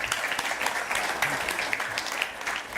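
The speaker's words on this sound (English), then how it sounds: "The clapping subdued a little bit" Conference audience applause, a steady, moderately faint patter of many hands clapping from a distance that stays fairly even and low-key throughout.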